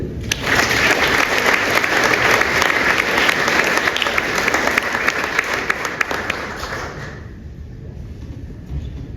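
Audience applause fills an award ceremony hall, dense and steady for about seven seconds before thinning out and fading.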